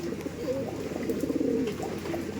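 A frightened Andhra pigeon calls in continuous low throaty coos, near and fairly loud over a busy background hum.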